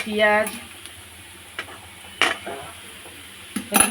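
Potatoes, onion and green chili sizzle in a pan while a spatula stirs, with a few sharp metallic scrapes and clanks against the pan over a steady frying hiss.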